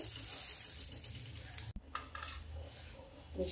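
Beans frying with cumin in a pan over low heat, a steady close sizzle with light stirring and a brief clatter midway.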